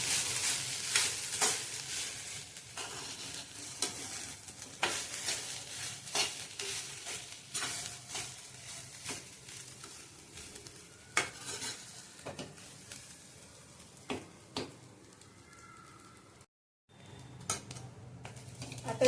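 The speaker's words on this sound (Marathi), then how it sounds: "गॅस बारीकच ठेवायचा आणि 1 मिनिट असा सुका आपण भाजून घेणार आहोत।" Grated fresh coconut is dry-roasted in a pan over a low gas flame, with repeated scraping and stirring strokes of a spatula against the pan, close and fairly quiet, with a brief pause near the end.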